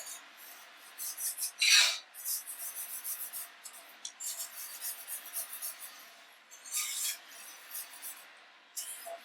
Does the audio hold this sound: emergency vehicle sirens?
no